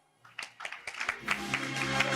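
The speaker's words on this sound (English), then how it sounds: "Give them a round of applause" Awards-show audience at the National Music Awards 2024 breaks into applause, starting with a few sharp isolated claps that quickly build into a fuller, steady round of clapping.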